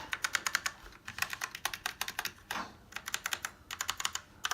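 Keys pressed on an affordable RGB LED mechanical keyboard with brown switches, rapid clacky strokes in quick runs with brief pauses, close and crisp with no talk.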